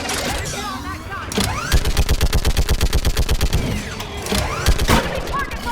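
Rapid automatic fire from a mounted gun during a Mass Effect 3 battle, a long steady burst of evenly spaced loud shots mid-clip and a shorter burst near the end, with shouted voices and combat noise around it.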